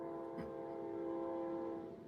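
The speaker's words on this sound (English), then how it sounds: "That'd be the Acela going by." An Amtrak Acela train passes, its steady tonal drone holding for about two seconds over a low rumble, loud and unbroken, with a brief knock early on.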